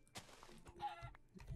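Chickens in the video game Minecraft let out a few short clucks over a brief second and a half, fairly quiet, with no talking.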